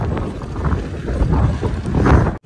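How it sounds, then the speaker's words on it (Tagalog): Gusty wind buffets the microphone with a low, roaring rumble, steady and close, with no talking, outdoors at a dirty open site. "Mahangin."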